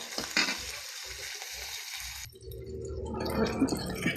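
Chicken sizzling and frying in a pan for adobong pancit, a steady close crackle with brief stirring scrapes early on, then a louder, fuller sizzle in the second half, no voices.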